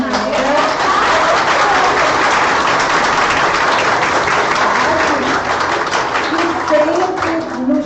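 Sustained, loud applause from a gathered audience at a spiritist week event honoring a singer, dense crowd clapping throughout, with voices murmuring and talking underneath.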